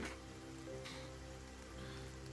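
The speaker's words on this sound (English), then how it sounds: "Oh my god, is it starting to rain?" Steady rain ambience plays as a background effect during a tabletop role-play session. A soft, even hiss of rainfall sits over a low droning hum, quiet and continuous, with no voices.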